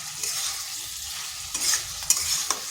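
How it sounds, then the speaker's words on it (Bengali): Okra and potato masala stir-fried in a pan, a steady close sizzle broken by a few louder scrapes and stirring clicks, with no talking. "এটা বেশ কিছুক্ষণ সময় ধরে কষে নিতে হবে।"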